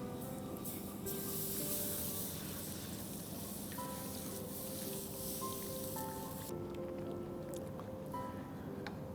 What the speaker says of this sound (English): Whilst adding milk, you need to constantly whisk this so as to ensure no lumps are formed.